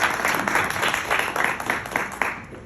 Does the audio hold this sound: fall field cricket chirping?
no